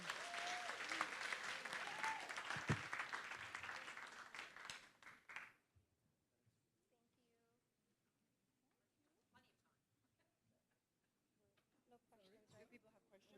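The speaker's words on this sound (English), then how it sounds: "give our writers a big round of applause." Audience applause for writers at a literary festival in the US Virgin Islands, a dense, loud burst of clapping and cheering lasting about five seconds, then fading into a quiet room with scattered faint voices.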